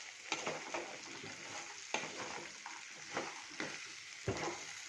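Sliced okra stir-frying in hot oil over a high flame, a steady sizzle broken by repeated sharp scrapes and stirs of a utensil against the pan, close and fairly loud with no talking.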